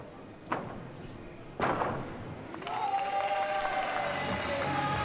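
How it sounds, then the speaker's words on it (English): An arena crowd at a gymnastics World Cup in Doha breaks into applause and cheers, swelling after two sharp thuds into a sustained, steady roar of clapping at a moderate distance. "big cheers going up around the arena"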